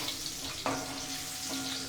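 Curry leaves and dry chillies crackle in hot oil in a pan, a soft continuous sizzle with a couple of brief clinks of a utensil, fairly quiet and close.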